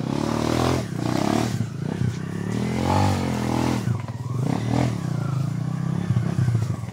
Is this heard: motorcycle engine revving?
yes